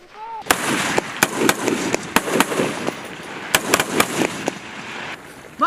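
Rifles crack in irregular sharp shots and quick clusters during a U.S. Army live-fire exercise on a range in Korea, loud and near, with soldiers shouting in between.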